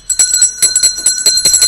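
A bell rings in a rapid series of bright, repeated metallic strikes with a steady ringing tone sustained throughout, loud and close with no voices.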